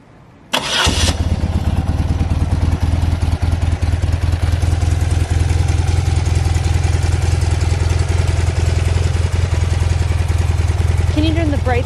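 A 1989 BMW R100 GS Paris Dakar boxer-twin motorcycle fires up abruptly from a cold start and settles into a loud, close, steady lumpy idle with mechanical clatter, while people talk nearby.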